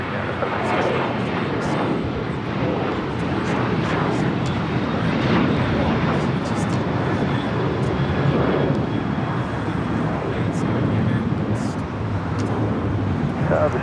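A Boeing 777-300ER jet arriving from Zurich at LAX, a steady broadband engine roar that stays loud and constant throughout, with faint voices underneath.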